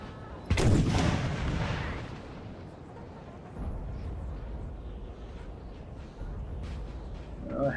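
In a Napoleon: Total War battle, artillery fires a loud, booming shot near the start, followed by a long rolling decay. Further distant cannon thuds rumble under a steady battlefield din.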